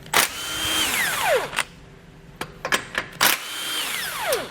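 A power tool with a 13mm socket spins bumper beam bolts out of a 2019 vehicle, giving loud rising and falling whirs in separate bursts with short clicks between them.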